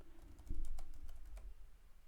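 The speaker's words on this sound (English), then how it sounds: "Let me try typing that in." A few quick keystrokes click on a computer keyboard at close range, faint and soft, set against quiet room noise.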